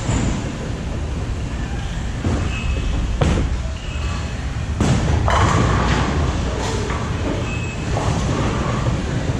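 A Global 900 Zen bowling ball rolls down a lane with a steady low rumble, punctuated by several dull thuds and knocks, fairly loud and continuous with no talking.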